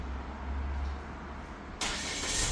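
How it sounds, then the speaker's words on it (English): A 2024 Chery Tiggo 4 Pro starting by remote start, with a low engine rumble that settles into a steady idle and then a brighter surge of engine noise near the end. "so that remote starts the car"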